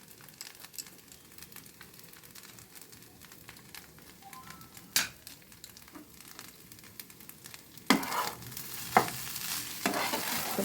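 Raisins and nuts fry in ghee for Gobindabhog rice fried rice, a quiet low sizzle with occasional spoon clinks and stirring scrapes that grow louder near the end.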